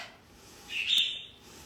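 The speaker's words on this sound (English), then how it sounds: "You can hear our budgies in the background." A single thin, high budgie chirp rises and fades in the background. The surroundings are otherwise quiet and no one is speaking.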